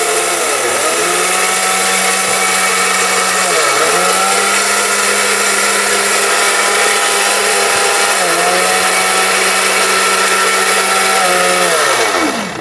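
A Veronica blender, an Indian brand, grinds rice loudly and steadily for about twelve seconds, its motor whine dipping briefly three times as the load shifts before picking back up.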